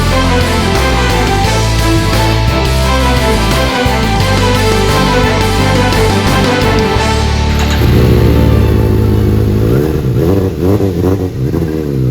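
A red 2012 Suzuki GSR750 motorcycle revs loudly and steadily, its engine note rising and holding in repeated surges from start to finish, close to the microphone with no talking.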